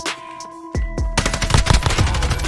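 Gunfire in Call of Duty: Modern Warfare (2019): a few scattered distant shots, then a loud close burst of rapid automatic fire with heavy booming reports that continues to the end.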